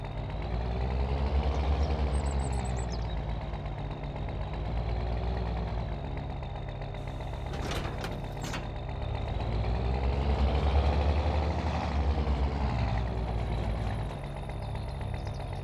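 A tractor engine in the Farming Simulator 25 game runs steadily at a low rumbling idle, pulling a lime spreader, with a brief mechanical clatter partway through and no talk.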